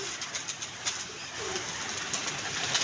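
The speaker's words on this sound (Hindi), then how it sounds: "दाना खा रहे हैं माशाल्लाह कबूतर सारे।" Pigeons coo softly in a steady outdoor murmur while eating scattered grain, with occasional faint wing flutters and light pecking sounds throughout.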